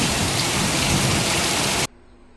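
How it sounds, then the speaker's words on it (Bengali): Heavy rain drums on a tin roof, heard from indoors as a dense, loud, steady patter that ends abruptly after about two seconds. "ভিতরে থেকে এই যে টিনের চালে যে বৃষ্টি পড়তেছে টপ টপ টপ টপ শব্দ"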